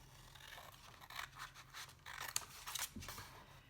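Scissors snip up three fold lines of a cardboard craft box in a series of quiet, close cuts with faint paper scratching between them.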